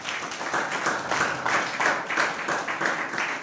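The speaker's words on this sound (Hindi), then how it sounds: "प्रभु के जोरदार ताली बजाइए" Church congregation clapping in unison, a rhythmic pulse of hands roughly three beats per second, moderately loud and sustained.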